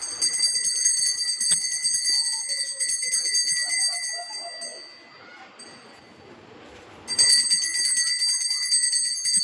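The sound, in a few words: bell rung during puja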